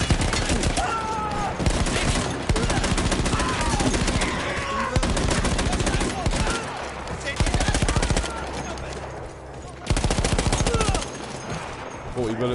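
Loud, close machine gun fire from Battlefield 1 blasts in long sustained bursts separated by short pauses, with battlefield noise and some voices underneath.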